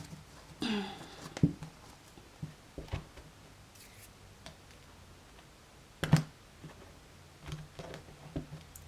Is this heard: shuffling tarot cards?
yes